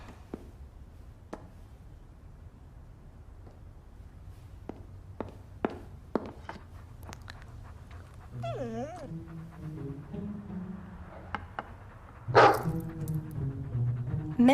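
A dog whimpers and gives short barks indoors, starting with scattered taps and footsteps, then rising whines and yelps that grow louder and more insistent toward the end.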